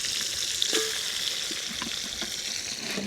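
Lobster cooks down in a pot, giving a steady, close sizzling hiss with a few light pops and a clink near the start, and no talk over it.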